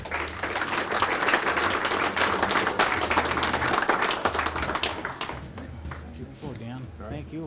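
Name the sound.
round of applause at a banquet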